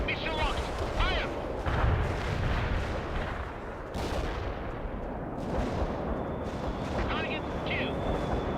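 Missile launch and explosions in World in Conflict, a Soviet assault battle, with a dense rumble of artillery-like blasts and a sharp launch burst midway, under unit radio chatter and voices.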